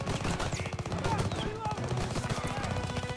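Rapid automatic gunfire in a WW2 campaign shooter, dense continuous bursts with scattered shots and battle noise throughout, a voice speaking over the shooting.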